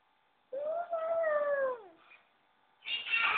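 A child imitates a cat's meow, one drawn-out mewing cry that slides downward and fades, followed by a short breathy burst after a pause.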